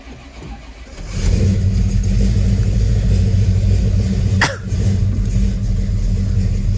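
Big block 396 V8 in a 1970 Chevy Chevelle SS Z25 cold starting after sitting for months: cranking, then it catches into a loud, steady, rumbling idle close by, with a brief dip partway through.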